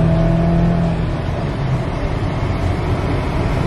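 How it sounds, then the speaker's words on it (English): A 2020 Subaru Forester Limited accelerates with a steady, smooth engine drone heard from inside the cabin, loud and continuous throughout with no talking. "Definitely passing power. Very smooth engine."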